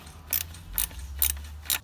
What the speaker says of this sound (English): So I'm okay now to take out the bolt.